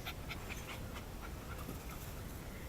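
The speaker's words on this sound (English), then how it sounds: "Scout, he's my pup dog. Come here, boy." A young pet dog pants in quick, rhythmic breaths outdoors, close and fairly quiet against a steady background hiss, with no talk.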